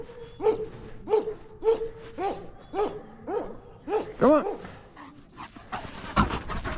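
Several dogs bark and pant close by, a steady run of short barks roughly every half second, then whimpers and panting, with someone briefly talking.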